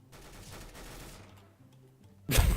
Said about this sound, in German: jemand schießt